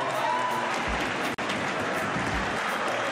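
A crowd at a Canarian wrestling ring applauds steadily, with dense clapping from fairly close that briefly cuts out for a moment midway.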